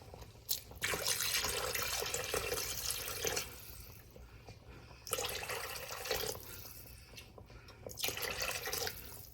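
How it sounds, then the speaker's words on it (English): Water splashes into a cooking pot for a green chili pork casserole in bursts of pouring, three main pours separated by brief pauses, close and fairly loud with a steady low hum underneath. "this is about six cups of water I put in."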